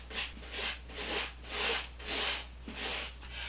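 A copper scrubber rubs back and forth over polyester satin fabric on a doll, giving about six steady scratchy strokes in an even rhythm with a faint low hum beneath.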